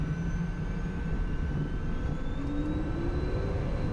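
A pair of Phenom 300 jet engines roars at takeoff thrust, a steady faint whine and rumble with rising tones as the aircraft gathers speed on the runway.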